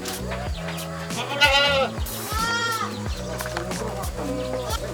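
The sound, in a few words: goats bleating while being fed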